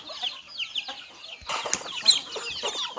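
Chickens on a farm, including a white Burmese-breed breeding rooster, clucking and shuffling with a brief flurry of flapping wings midway, close and moderately loud with no talk.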